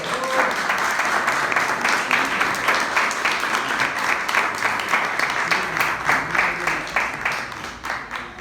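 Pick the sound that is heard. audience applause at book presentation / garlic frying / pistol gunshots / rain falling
audience applause at book presentation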